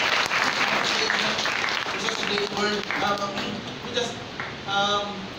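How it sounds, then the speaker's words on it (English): A church congregation gives a long, generous round of applause, dense clapping filling the hall, with voices audible over it. "Please ask everyone to give God a very generous clap."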